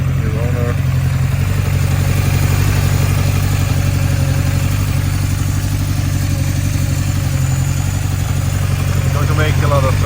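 A Honda CB750 Four K6 motorcycle engine runs at a steady idle, close and loud, with an even low throb and mechanical clatter throughout and a voice briefly heard over it.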